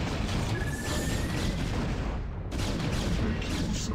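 Units in the original StarCraft, playing as Protoss, fire at an air unit in a continuous roar of rapid crackling shots and booms, loud and dense throughout with a brief dip near the middle.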